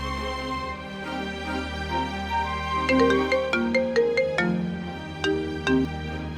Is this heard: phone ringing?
yes